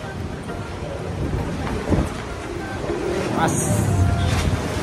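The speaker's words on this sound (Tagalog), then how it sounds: "lakas ng hangin" Strong wind gusts roaring steadily across an open outdoor site, a broad rushing wash that swells toward the end, with someone talking over it.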